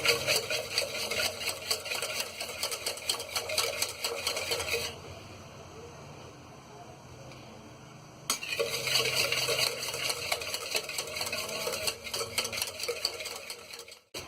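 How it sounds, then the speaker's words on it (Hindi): Flour being beaten into cake batter in a bowl, a steady, close whisking and stirring rattle that drops out for a few seconds partway through before resuming. "मैदा डाल के भी अच्छी तरह से फेंटेंगे"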